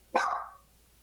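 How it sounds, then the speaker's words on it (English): A house dog lets out a single sharp bark that rings briefly and fades, heard alone at moderate loudness. "That's why my dogs are barking."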